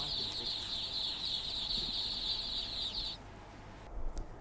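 A crowd of more than a thousand three-day-old ducklings packed in a transport load gives a dense, shrill, continuous peeping chorus that cuts off abruptly after about three seconds.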